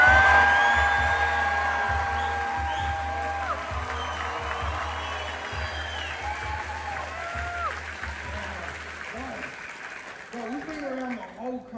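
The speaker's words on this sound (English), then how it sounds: "And finally, clap your asses for me." Theatre audience at a comedy show curtain call in Sydney applauding and cheering, a dense wash of clapping that is loudest at the start and gradually thins, with whoops and voices mixed in.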